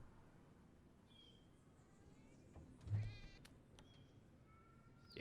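A cat in the video game Downfall gives a drawn-out, wavering meow amid faint game ambience, with a few thin tonal chirps before and after and a low thump under the call.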